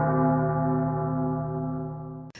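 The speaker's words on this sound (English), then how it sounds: "Dylan, another gong, please." A single gong stroke rings out loud and sustained, a rich cluster of tones slowly decaying over about two seconds before cutting off abruptly.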